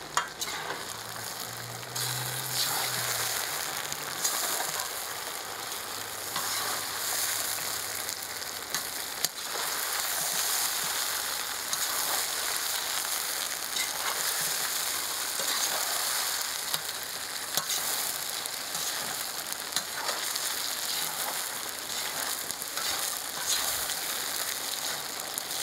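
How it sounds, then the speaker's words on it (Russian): Chicken drumsticks and potatoes fry in a new 12-litre kazan over a wood fire, a dense continuous sizzle broken by scraping stirs and occasional knocks, close up with no talking. "Сейчас перемешиваем и накрываем крышкой."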